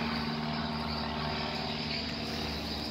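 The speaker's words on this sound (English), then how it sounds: "Some helicopter." A helicopter passes overhead near a rainforest open-air gym in northern Brazil, a continuous loud droning rotor and engine hum with faint rhythmic beating, steady throughout.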